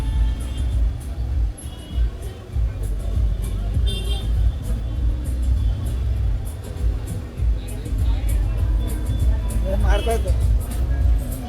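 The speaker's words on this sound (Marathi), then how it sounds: "कलंगूट बागा रस्त्यार आणि कशा तरेन ट्रॅफिक जाम जाला" Steady rumble of idling and slow-moving cars in a New Year's Eve traffic jam on the Calangute–Baga road, Goa, with engine drone throughout, people talking nearby, and a brief honk near the end.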